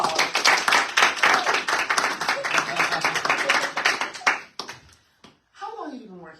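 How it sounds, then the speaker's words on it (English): A studio audience claps and cheers after a live song performance, a dense burst of applause for about four seconds that fades out before voices start talking. "A round of applause."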